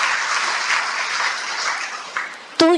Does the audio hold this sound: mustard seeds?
no